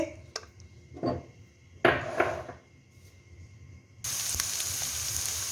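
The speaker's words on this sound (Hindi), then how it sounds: "प्याज को हम जलाएंगे नहीं बल्कि सौते करेंगे" Chopped onions sautéing in a pan as the base of a white sauce for chicken steak, with a few clinks and scrapes of a utensil against the pan, then a steady close sizzle for the last seconds.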